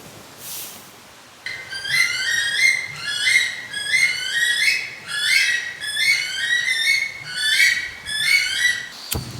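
Weka chicks call from nearby in outdoor bush, giving a steady repeated series of high, rising whistled peeps in regular pulses.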